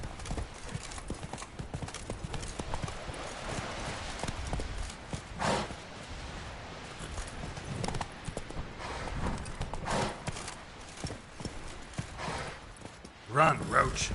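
Hoofbeats of Roach, the horse in The Witcher 3, clip-clop steadily at a gallop through most of the stretch, with a brief whinny near the end; a man urges the horse on over the hooves.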